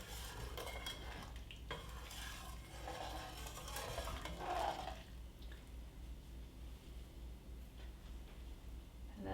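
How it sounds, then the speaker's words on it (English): Spaetzle get nudged around in a pot of boiling water with a slotted spoon, producing soft scraping and stirring clinks with a light bubbling wash underneath. The sound is fairly quiet and close, with no voices. "You can use the slotted spoon to move them around a little bit."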